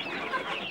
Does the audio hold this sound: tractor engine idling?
no